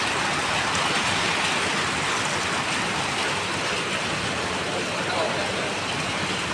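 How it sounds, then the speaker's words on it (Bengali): Steady rain pours down continuously, a dense even hiss close by that holds throughout with no pauses or individual drops standing out. "বৃষ্টি দেখেন ভাই বোনেরা, বৃষ্টি কেমন বৃষ্টি হইতেছে।"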